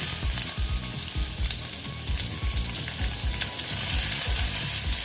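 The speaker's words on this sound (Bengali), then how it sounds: "পেঁয়াজ কুচি দিয়ে আবার আমি এটা ভালো মতো ভেজে নিচ্ছি" Chopped onions frying in a pan for a jackfruit dish, a loud, close, continuous sizzle with rhythmic scraping of a spatula stirring throughout.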